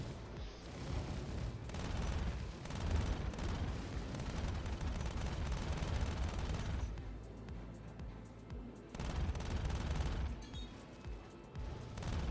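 In the space game Star Citizen, a size 3 ship turret carrying four guns fires during a bounty hunt against an Aurora MR, a dense, continuous roar of rapid weapon fire and explosions with only brief dips in intensity.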